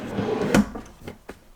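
A drawer slides open nearby with a short rumbling scrape, a sharp knock as it stops, then a couple of lighter clicks and taps from its contents, all quick and close without talking.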